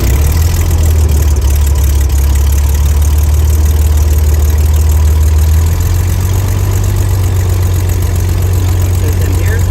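A propeller aircraft engine runs at a loud, steady idle close by, its low drone changing pitch partway through, with people talking nearby.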